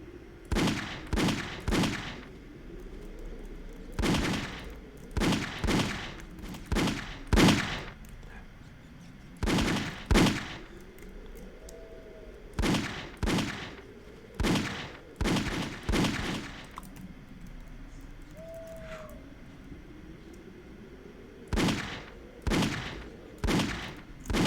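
Gunshots in a Dracula horror video game, loud clusters of rapid shots separated by short gaps, firing in repeated bursts with faint background ambience between them.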